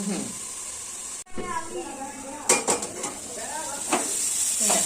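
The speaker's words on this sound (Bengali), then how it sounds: "দেখো শাকটা কেমন ভাজা ভাজা হয়ে যাচ্ছে।" Khesari greens fry and sizzle in a pan with a steady hiss, broken by a brief pause and then a few scraping stirs and light clatters of a utensil against the pan, close and clear.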